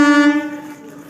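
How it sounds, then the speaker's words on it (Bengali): A train arriving at a station sounds a loud, near horn blast, one sustained tonal honk that starts abruptly and fades within about a second, heard alone without talk. "ওই যে আমাদের ট্রেন আসছে"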